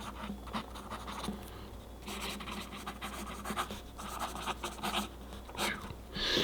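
Fine-nibbed Parker Duofold fountain pen scratching across paper: soft, close, intermittent strokes in clusters separated by brief pauses, faint against a low background hum.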